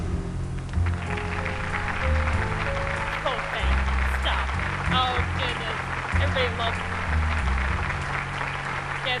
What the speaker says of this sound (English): Yes, keep them clapping.